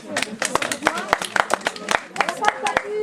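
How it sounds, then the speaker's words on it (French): Scattered clapping from a small audience at a children's Christmas theatre show in a charity hall, uneven sharp claps mixed with children's voices talking and calling out over them. "Bravo, on applaudit"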